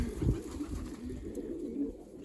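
Pigeons in a loft where young squabs are being fed give soft, low cooing, faint and steady with a light background hum and no talk.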